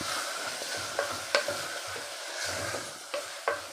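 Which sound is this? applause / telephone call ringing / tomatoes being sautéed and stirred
tomatoes being sautéed and stirred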